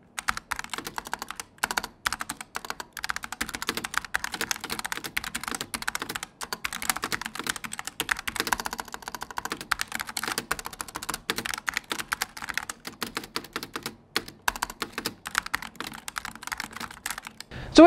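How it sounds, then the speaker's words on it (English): Rapid, steady typing on a Bloody Light Strike keyboard with optical switches, a dense run of close clicking keystrokes that continues alone for about eighteen seconds. "the sound of an optical key and a mechanical key is pretty similar"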